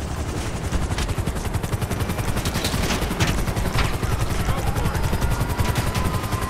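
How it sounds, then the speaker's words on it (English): A helicopter flies during a heist in a video game, its rotor giving a dense, rapid, steady chopping roar that fills the whole stretch, loud and close with no talk. "Get in the chopper and fly to the drop off."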